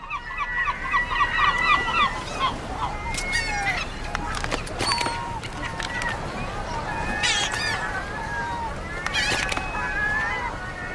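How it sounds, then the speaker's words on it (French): Seagulls crowding around fishing boats in search of food, a flock giving repeated honking and squawking calls near and far, with faint voices underneath. "Les mouettes investissent les bateaux de pêche à la recherche de nourriture."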